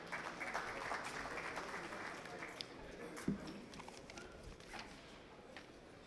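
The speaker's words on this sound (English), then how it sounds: "Can we have a please round of applause?" Convention audience in a large hall applauding a speaker being introduced: steady, dense clapping of a big crowd heard from a distance, continuing without pause.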